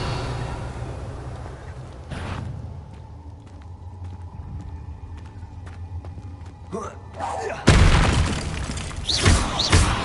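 A Confringo blasting spell in a wizard video game lands with a sharp explosive boom and crackling burst, then a second heavy blast near the end, over a steady ambient game rumble.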